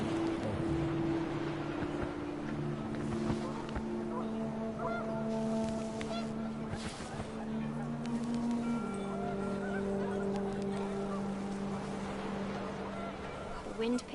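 Panicked geese honk repeatedly in the video game What Remains of Edith Finch, a cluster of overlapping drawn-out calls against rising wind, with a narrating voice speaking over parts of it.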